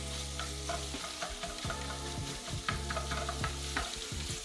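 Italian-style sausage browning in a pan, a steady sizzle with repeated scraping stir strokes close up, no voices.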